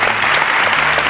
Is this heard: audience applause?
yes